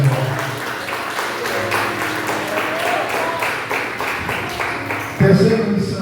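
A church congregation applauding during a sermon, a broad wash of clapping from many hands, moderately loud and continuous, with a pastor's voice speaking over parts of it.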